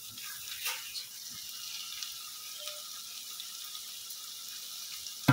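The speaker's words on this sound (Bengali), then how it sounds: "এখানে আমি আগে গরম জল করে রেখে দিয়েছিলাম, এবার গরম জলটা দিয়ে দিচ্ছি।" Hot water poured into a hilsa fish curry cooked with poppy-seed, onion and chili paste in oil, a steady soft hissing pour with a faint sizzle running throughout, without speech.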